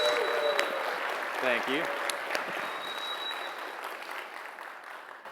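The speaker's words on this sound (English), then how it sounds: "Give them a big round of applause." A conference audience applauds as two speakers are introduced, with clapping loud at first and gradually tapering off while a brief spoken thanks and a few faint tones cut through.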